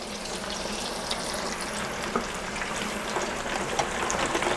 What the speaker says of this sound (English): As you can tell, the sizzling sound, the sizzling, the magic is happening.